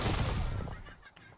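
Krieg C rifle fire in Call of Duty Warzone, a brief burst of rapid gunfire that fades out quickly, heard alone.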